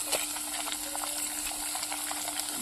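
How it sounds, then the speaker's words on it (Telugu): Cumin seeds sizzle steadily in hot oil, a constant bright crackling hiss with a few sharper pops over about three seconds, close and fairly loud with no voices. "నూనె కాగిన తర్వాత జీలకర్రలు అయితే వేసుకుందాం దాంట్లోకి"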